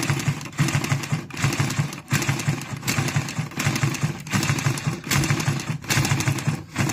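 A sewing machine stitches cloth in loud, close bursts of rapid clattering needle strokes, each run stopping briefly before the next starts, in a regular start-stop rhythm.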